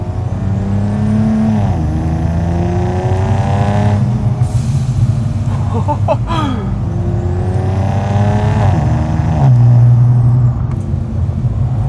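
A 2020 Infiniti Q60 Red Sport with Stage 2 turbos, 640 whp, revs loudly and climbs in pitch, broken by sharp hissing whooshes from the blow-off valve between pulls.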